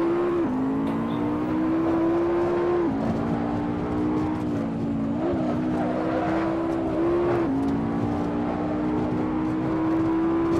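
A race car engine heard onboard while driving, a loud continuous high-pitched whine that rises and drops with gear changes and lifts, with steady road roar beneath and no talk.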